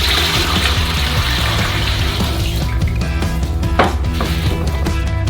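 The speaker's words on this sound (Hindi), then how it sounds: "आटे के लिए बेसिन में 3 लीटर 330 मिलीलीटर पानी डालेंगे।" Water pours steadily into a basin for bread dough beside a wood-fired oven, a continuous splashing trickle with faint clinks and knocks of handling, close and alone without voices.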